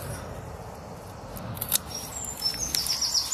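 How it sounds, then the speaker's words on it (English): Several birds chirp and tweet in short bright bursts in a spring morning choir in Musselburgh, over a quiet outdoor background, growing busier toward the end. "A morning spring choir. Bird choir."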